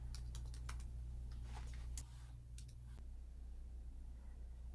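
Fingers tap on a computer keyboard in quick, irregular clicks, faint over a steady low hum, bunching in short runs before thinning out.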